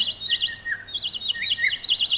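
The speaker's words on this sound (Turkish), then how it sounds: "O güzelim kuşların sesini duymak." Several birds sing close by in quick, high warbling trills and chirps, overlapping continuously against a quiet background.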